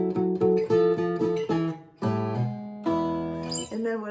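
Bass notes on an acoustic guitar's fourth string step downward through a blues riff, struck one at a time with ringing chord tones around them, played alone and close.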